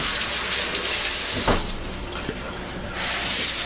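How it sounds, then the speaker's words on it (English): Hands washed under running tap water at a kitchen sink, a steady close hiss of flowing water with brief splashes, continuing for a few seconds. "So just quick wash my hands off."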